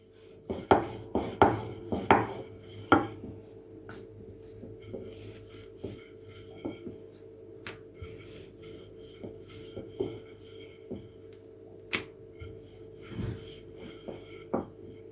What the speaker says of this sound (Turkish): Çok hafifçe tezgahıma un serpiştirdikten sonra tabak büyüklüğünde açacağım merdane yardımıyla